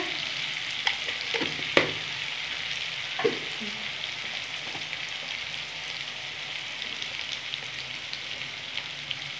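Cumin seeds sizzling in hot oil while shrimp curry is cooked, a steady close frying hiss with a few sharp clinks of a spoon against the pan early on, no voices.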